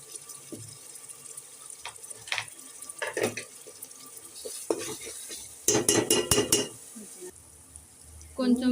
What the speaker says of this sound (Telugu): ఇలా ఎర్రగా ఉల్లిపాయలు వేగిన తర్వాత అందులో 2 స్పూన్లు అల్లం పేస్ట్ వేసుకోవాలన్నమాట.